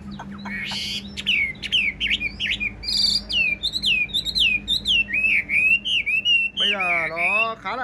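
Caged Chinese hwamei songbird singing in the evening, a loud, close run of varied whistled phrases, rapid chirps and slurred notes, ending in a buzzy warbling flourish over a faint low hum.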